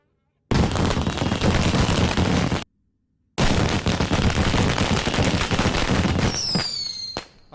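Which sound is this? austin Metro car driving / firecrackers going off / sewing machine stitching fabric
firecrackers going off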